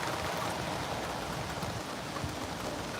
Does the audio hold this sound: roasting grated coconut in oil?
no